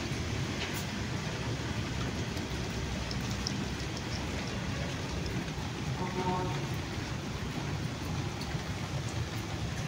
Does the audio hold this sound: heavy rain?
yes